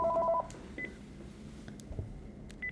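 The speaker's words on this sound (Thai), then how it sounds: "ขออนุญาตรับโทรศัพท์แป๊บนึงค่ะ" Telephone tones sound as a call comes in during a Thai morning Dharma program: a short burst of paired dialing beeps at the start, then a few faint isolated beeps over quiet background noise.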